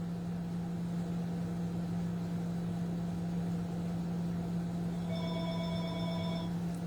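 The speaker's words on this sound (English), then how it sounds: "There's our phone call." A telephone rings briefly near the end with an incoming call, its tonal ring over a steady low hum in an otherwise quiet room.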